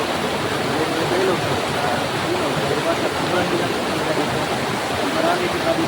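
Steady broadband rush of river water flowing continuously, loud and close, with no breaks, at a river where children gather.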